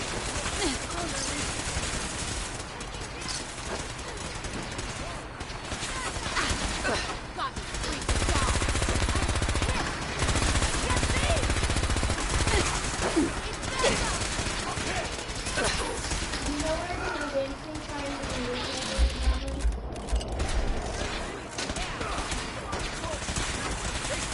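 Gunfire in Fallout, bursts of rapid shots and sustained volleys scattered across the scene, mixed with people talking and shouting over the shooting.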